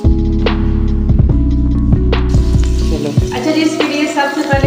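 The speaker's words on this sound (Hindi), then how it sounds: "घी लेना है, उसे गर्म करना है और उसमें हमने कटी प्याज डाल देनी है" Chopped onions sizzle steadily in hot ghee in a pan over a low hum, and the frying grows into a brighter, louder crackle partway through.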